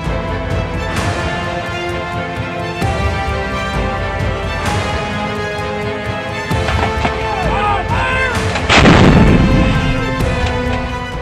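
A deep boom from a TC-40 howitzer bursts out near the end, heard over a dramatic music track with scattered thuds earlier.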